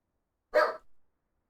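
A single short, close dog bark sounds out of silence, followed by a softer tail.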